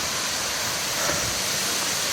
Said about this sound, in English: This is the bottom of the waterfall.